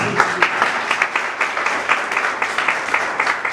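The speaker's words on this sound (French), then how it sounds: "Applaudissez Dieu l'église." A church congregation applauds at a Haitian wedding ceremony right after the couple is pronounced married, with steady, dense clapping that fills the room from start to finish.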